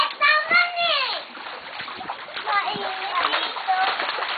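Children splash about in water, with a run of wet splatters and sloshes beneath excited kids' voices calling and chattering close by throughout.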